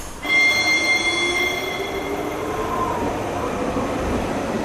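Passenger train running on rails in an animated scene, a loud, close, continuous rumble with high metallic wheel squeal tones that fade over several seconds.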